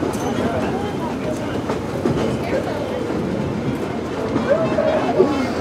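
Disneyland Railroad train running along the rails, a steady rumbling roll with faint clickety-clack, continuous and fairly close, with voices murmuring underneath.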